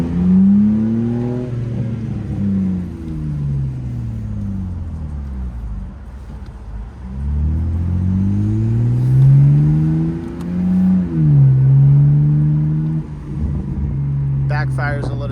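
A BMW Z4 with paddle shifters, bought from Copart, revs while driving, its engine note climbing and falling through several gear pulls. Someone talks over the steady in-cabin drone.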